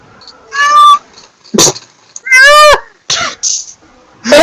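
A person imitates a cat in a Pillars of Eternity gaming session, giving several loud, close meows and yowls with harsh bursts like coughs or sneezes between them, about five sounds spread over four seconds.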